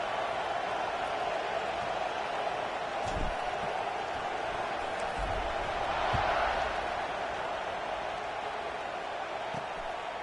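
A stadium crowd roars in a college football video game, a steady, broad wash of cheering noise at constant volume with a slight swell midway and a few faint thumps, no voices clearly standing out.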